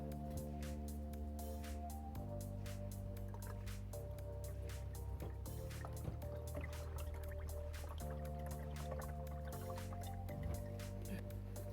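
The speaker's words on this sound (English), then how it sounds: "let me add in just a smidge of Dex Cool" Dex-Cool coolant trickles into the cooling system of a 2009 Chevrolet Silverado or GMC Sierra pickup, making faint drips and soft glugs over a low, steady hum.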